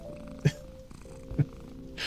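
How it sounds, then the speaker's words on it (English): Petra's cat purring in the Fatal Falls DLC of a tactics video game: a soft, low, steady purr under quiet ambience, broken by two brief louder thumps or chirps. "I'll crank Petra's ASMR a little bit higher. If the purring is too ridiculous"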